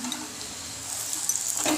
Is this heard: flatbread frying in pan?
yes